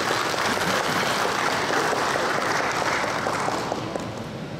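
Steady audience applause at a government launch event for the Keris Baja innovation project, a dense, full clapping that holds for several seconds before slowly easing off, with no talk over it.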